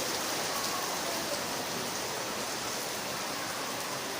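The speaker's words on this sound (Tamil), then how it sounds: "மழை ஸ்டார்ட் ஆகிடுச்சிங்க." Morning rain falling steadily and evenly, a dense, close, unbroken wash of drops with no breaks or voices.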